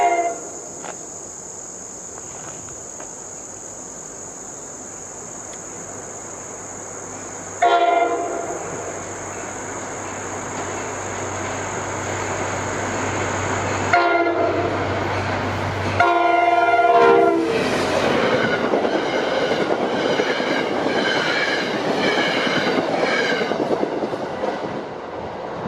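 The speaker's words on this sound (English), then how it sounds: "the oldest active passenger locomotive in the U.S., leads X4207 to Hackettstown with no passengers aboard" NJ Transit locomotive 4207, among the oldest active passenger locomotives in the U.S., passes while leading an empty train toward Hackettstown in northern New Jersey, with steady sustained horn blasts and rumbling rail noise over a background of chirping insects.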